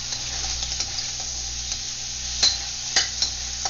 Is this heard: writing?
no